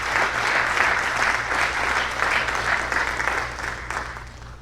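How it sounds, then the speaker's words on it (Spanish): A church congregation applauds together, a loud dense burst of clapping that holds steady for several seconds and then begins to fade, with no voices over it. "Denle un aplauso al Señor Jesús."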